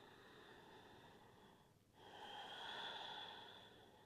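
Slow, deliberate breathing during a floor yoga stretch: a long hissing exhale, a brief pause, then a fuller inhale. It is close and faint, with a steady hum behind it.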